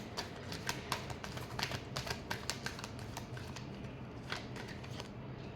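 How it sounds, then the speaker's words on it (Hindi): Tarot cards are shuffled in a close, steady riffle of soft rapid flicks and papery slaps that runs continuously, with no talking. "last shuffle"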